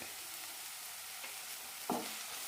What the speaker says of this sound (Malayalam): പൊടികളുടെ പച്ചമുളം പോകുന്നവരെ വഴറ്റിയെടുക്കാം